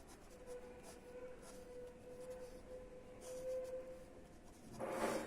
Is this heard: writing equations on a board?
yes